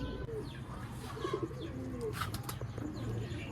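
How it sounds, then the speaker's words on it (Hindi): A Permoz breed pigeon held in hand gives soft, low cooing and grumbling calls with light rustling and faint chirps, close and quiet throughout. "ये जी सेकंड पिजन, ये भी देखें कैसा गुस्सा कर रहा हाथ में आके"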